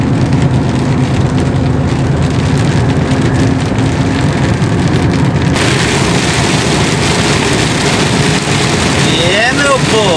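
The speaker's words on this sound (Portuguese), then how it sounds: "E chuva que Deus manda." Heavy rain drums steadily on a vehicle driving along a Brazilian state highway, a constant loud wash of water and road noise that continues throughout without a break.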